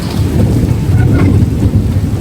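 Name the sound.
thunder during night rain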